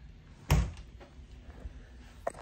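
A door closing with a single solid thump near the start, followed by quieter household rustles and a small knock toward the end.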